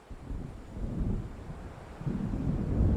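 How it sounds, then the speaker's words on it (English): Low rolling thunder of an approaching storm in Alan Wake, deep rumbles swelling and fading twice over a windy background, distant but heavy. "It seems there's a storm coming."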